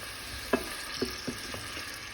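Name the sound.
frozen mixed vegetables frying in a pan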